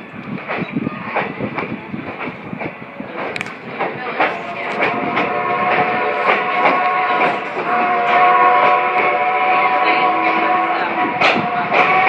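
A steam train on the Strasburg railroad rolls along with rhythmic clickety-clack and rumbling, and a sustained whistle sounds loudly over the running noise in the later seconds.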